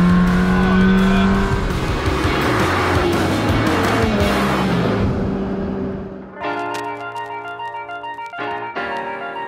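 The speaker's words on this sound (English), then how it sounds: "Yes, that V12 sounded pretty good, but nothing beats an angry Ferrari V8." A Ferrari V8 exotic car revs hard with a loud, snarling exhaust close by, then drops into a harsher, stuttering idle-and-rev pattern after a brief dip.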